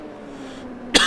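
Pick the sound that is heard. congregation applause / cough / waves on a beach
cough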